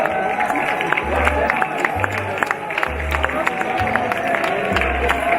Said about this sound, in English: Allez, les applaudissements, les applaudissements.